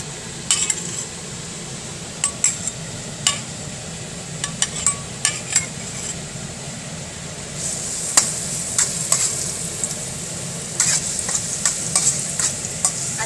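Garlic frying in cooking oil, a constant close sizzle broken by sharp clinks and taps of a utensil against the pan, louder and busier toward the end, with no talk.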